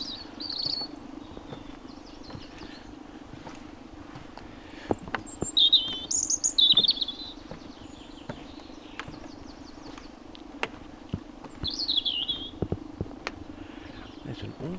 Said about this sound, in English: There's an awful lot of birds around.